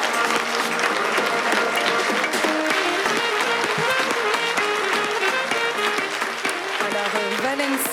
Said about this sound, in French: je vous demande une belle main d'applaudissements pour Valencia.